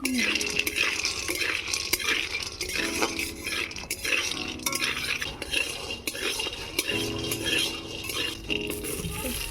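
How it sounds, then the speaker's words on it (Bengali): Lentil dumplings (bori) fry in a little oil in a wok while a metal spatula stirs them, making repeated scraping clinks over a low, steady sizzle. "এবার আমি বড়িগুলোকে ভেজে নেব"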